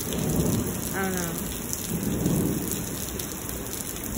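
A heavy thunderstorm in Lubbock, Texas pours steady dense rain while deep thunder rolls in low swells, with a brief bird-like chirp partway through.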